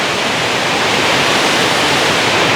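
Cane Creek Cascades waterfall swollen after heavy rain, a loud, steady, dense roar of rushing water filling the whole stretch without a break.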